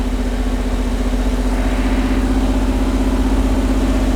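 A Chrysler 440 V-8 engine idles with a loud, steady, low rumble and an even pulsing beat, holding constant throughout with no revving.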